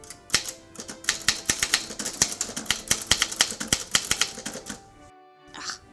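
Rapid, crisp clacking of keys struck on a manual typewriter, a dense irregular run of sharp strikes up close before a brief pause and a final few taps.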